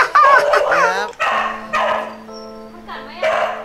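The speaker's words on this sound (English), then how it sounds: "Oh, by the dog barking." A dog in a house gives a couple of short barks and whimpering yips, close and loud, mixed in with people talking excitedly over it.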